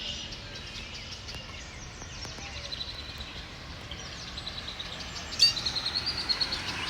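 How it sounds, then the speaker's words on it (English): Woodland birdsong: faint, distant chirps and calls over a steady outdoor hiss, with a brief cluster of brighter, nearer calls toward the end. "Crazy how birdie it is right now."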